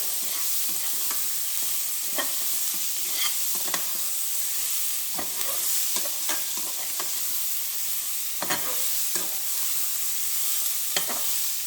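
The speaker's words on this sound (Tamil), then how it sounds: "இந்த எண்ணெயில் நல்லா வறுத்துலாங்க இது" Ivy gourd (kovakkai) pieces fry and sizzle in hot oil with salt, giving a steady close crackle with repeated scraping stirs of a spatula in the pan and no voices.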